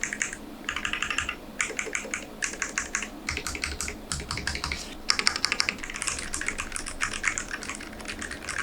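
Someone types steadily on a MelGeek Made68 Pro mechanical keyboard. The clicks come in quick bursts separated by short pauses, close up and fairly soft, with no voices.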